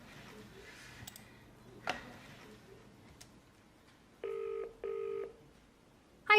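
A telephone at a veterinary practice sounds two short, steady electronic tone bursts in quick succession after quiet, faint handling clicks, with no speech over them.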